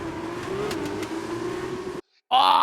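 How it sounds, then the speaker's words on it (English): Formula 2 car engine in the racing video game F1 2021 on Xbox Series X, a steady high-pitched drone that holds for two seconds, breaks off briefly, then returns loudly. "Is that what Formula 2 cars sound like?"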